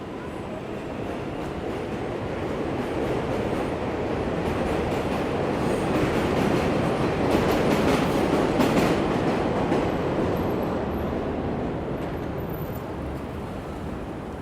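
A subway train in Queens, near Roosevelt Avenue between Jackson Heights, Woodside and Elmhurst, rumbles past as a steady, loud roar that swells toward the middle and slowly fades, with a faint metallic clatter over the top.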